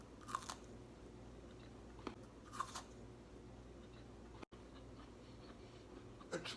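Someone bites and chews a crunchy homemade Kind-style bar with coconut. A few sharp, crisp crunches come at irregular intervals, close but quiet, with softer chewing in between and no talking.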